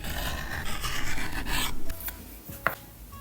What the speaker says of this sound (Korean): 그 전에 비벨러로 모서리를 부드럽게 정리해 줄게요